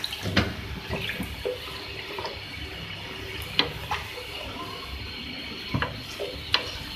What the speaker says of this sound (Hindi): 1 कप करीब मैं इसमें वाटर ऐड कर रही हूँ